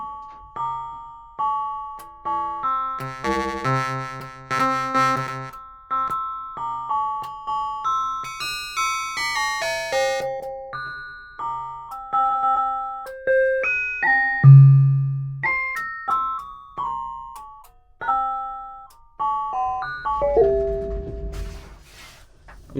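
Ring modulation on an analog modular synthesizer: a long run of short, decaying metallic bell-like tones with shifting inharmonic pitches as the oscillator waveforms and ranges change, plus a low buzzy burst near the end.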